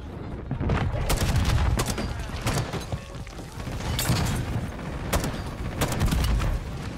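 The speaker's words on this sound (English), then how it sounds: "This is just straight explosions." Explosions and rapid gunfire in the video game Call of Duty Warzone, dense overlapping blasts and bursts of shots filling the scene at steady loudness, with a few sharper bangs standing out.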